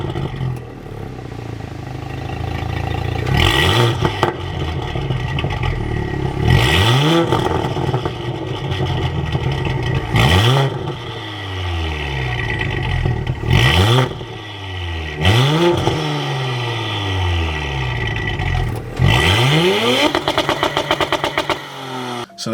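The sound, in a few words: Audi B9 S4 engine free revving in park, Stage 1 tune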